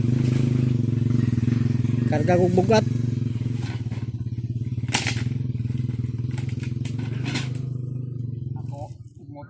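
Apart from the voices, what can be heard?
motorcycle engine running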